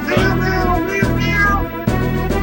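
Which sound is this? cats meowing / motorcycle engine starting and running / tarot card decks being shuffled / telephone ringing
cats meowing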